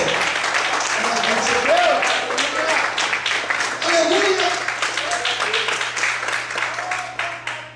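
Applause from a church congregation, lively clapping mixed with scattered cheers and shouted voices, steady at first and then thinning into separate claps as it dies down.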